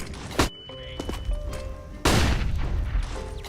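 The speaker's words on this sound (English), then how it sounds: "Grenade out. Deploying flashbang." A flashbang grenade goes off in a video game: a sharp blast near the start, then a bigger, louder burst midway with a ringing tone and lingering rumble amid other game effects.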